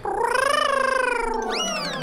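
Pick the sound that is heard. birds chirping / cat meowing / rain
cat meowing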